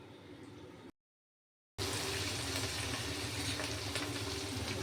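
Green chillies and fresh coriander leaves tempering in two spoons of hot oil for a pumpkin and potato curry: a brief soft hiss, a short silence, then a loud, steady, close sizzle that carries on to the end.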